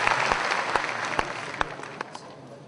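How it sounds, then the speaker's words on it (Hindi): An audience at a stamp release function claps to welcome guests, a dense burst of applause with sharp individual claps standing out, gradually thinning toward the end. "आप सभी से निवेदन है एक बार फिर तालियों से उनका स्वागत"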